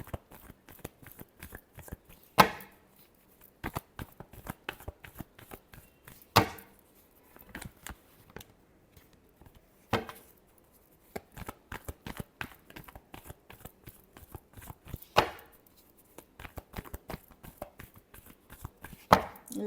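Tarot cards are shuffled in a final shuffle, with sharp riffling bursts and softer repeated card slaps in an irregular rhythm, close and fairly quiet, with no talk.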